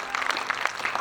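Church congregation clapping hands during worship, a brisk steady beat of many palms filling the room, loud and close with no pauses.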